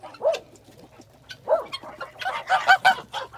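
Several geese honk close by, scattered calls at first, then a noisy overlapping burst of honking from the flock.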